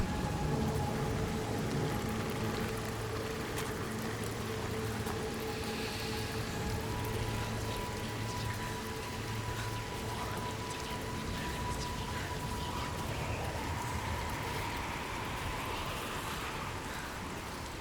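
Steady rain falls through a stormy environment in the video game Senua's Saga: Hellblade II, an even, continuous hiss with faint low rumbling beneath.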